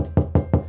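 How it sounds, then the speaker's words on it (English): Knocking on a door: three sharp, evenly spaced knocks, close and loud, with no talk. "If someone comes knocking,"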